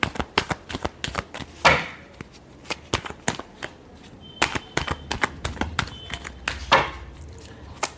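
Tarot cards shuffled by hand during a weekly Leo reading: a rapid, close-up run of crisp card slaps and riffles, with louder bursts of riffling near the start and end.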